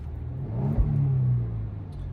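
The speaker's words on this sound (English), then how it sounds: "using active sound design, you too can have the roar of the muscle" Genesis G70 engine with synthesized active sound design, a low droning roar that swells around the middle and holds steady for about two seconds, close and alone with no talking.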